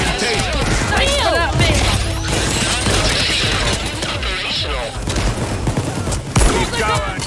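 Loud, dense gunfire from the heist video game Payday 2 rattles continuously through a chaotic firefight, bursts overlapping with game effects while players shout over it.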